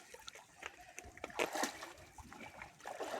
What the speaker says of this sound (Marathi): गाई पाण्यात उतरतात पहा.